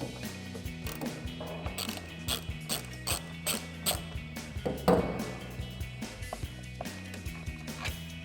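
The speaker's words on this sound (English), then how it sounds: "remove these 2 bolts" A 3/8 ratchet with a Torx bit removing the tail light bolts on a Toyota Tundra, giving quiet, steady clicking strokes close by, with no voices.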